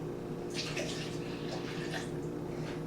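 A cup of water pours into a blender already holding orange juice concentrate and milk, a short, steady, fairly quiet splashing stream with no voices over it.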